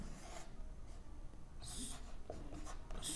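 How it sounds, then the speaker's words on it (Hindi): Chalk or marker scratches a board in a physics classroom as a first point is written, a few short rubbing strokes in quick bursts, close and fairly quiet. "तो हम इसमें पहला पॉइंट लिखते हैं साथियों"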